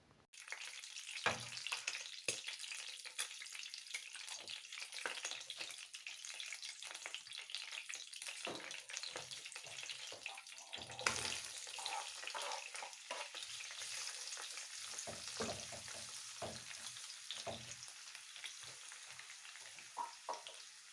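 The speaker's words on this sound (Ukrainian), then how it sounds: "Цибулька обжарюється" Onion sizzles and stews in rendered rib fat in a pan, a steady continuous frying hiss with occasional stirring clicks and scrapes, moderately close, no voices.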